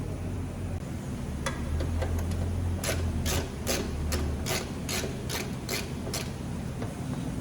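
A ratchet clicks in a quick series of sharp, close ticks while removing bolts on a Nissan Figaro, heard over a low steady background hum in a garage setting.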